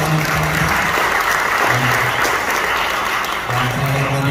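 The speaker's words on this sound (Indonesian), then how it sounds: "Tepuk tangan buat sekali lagi buat Bapak Wali Kota." Loud, sustained applause from a crowd at an anniversary ceremony in a church in Sukabumi, dense clapping filling the whole stretch with a few voices faintly underneath.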